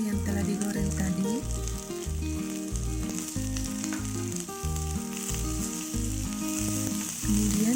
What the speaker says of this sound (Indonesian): Sekarang kita tambahkan ikan teri yang telah digoreng tadi.